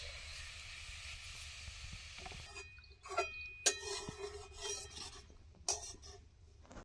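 Grated carrots for carrot halwa stir-fried in a pan make a soft, steady hiss, joined midway by scraping and stirring clatter with a few sharp metallic clinks.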